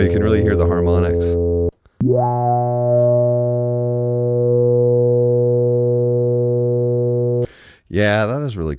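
A Roland SH-101 analog synthesizer holds a long steady tone with its filter swept so a ladder of bright harmonics rings out, loud and close, between short bursts of other notes at the start and end.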